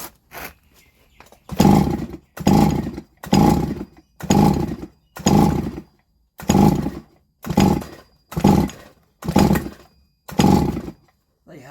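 A Solo 654 chainsaw is run in a series of about nine short, loud bursts of revving, each separated by a brief drop back to quiet idle, evenly spaced in a steady rhythm.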